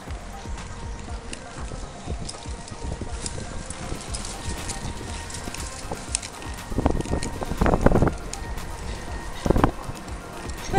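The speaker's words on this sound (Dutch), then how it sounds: "Het waait hier nogal." Gusty wind blows outdoors in a town, a constant buffeting rumble across the microphone, with rustling and a few louder thumps and clatters in the second half.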